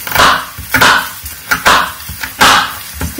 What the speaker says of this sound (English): I'm fully here chopping vegetables